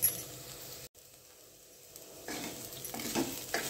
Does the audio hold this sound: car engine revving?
no